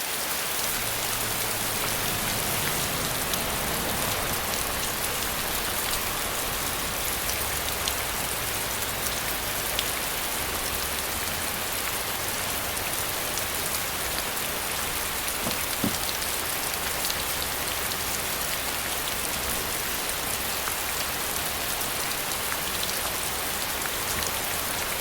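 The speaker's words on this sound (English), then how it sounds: "here's actually a little scene that I did with the car and the rain machine" Artificial rain from a rain machine pours steadily onto a car, a dense, even hiss of drops drumming on the bodywork for the whole stretch, close and unbroken, with no voices.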